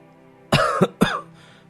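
Two harsh coughs in quick succession, close and fairly loud, then quiet.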